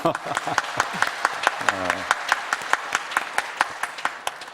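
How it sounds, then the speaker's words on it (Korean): A church congregation at a Sunday service marking the church's 51st anniversary claps with distinct, fairly spaced hand claps, and a voice speaks briefly over the clapping. "우리 박수 한번 합시다."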